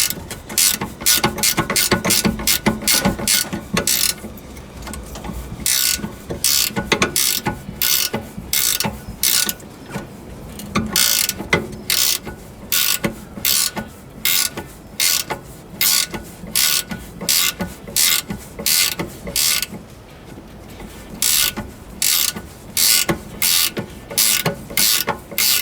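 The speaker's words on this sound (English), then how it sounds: "a ratchet spanner comes in handy" A ratchet spanner turning a bolt on a car's rear anti-roll bar, with quick rhythmic clicking strokes repeated in bursts, close and loud, broken by brief pauses and no talking.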